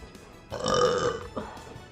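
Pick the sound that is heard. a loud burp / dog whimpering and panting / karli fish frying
a loud burp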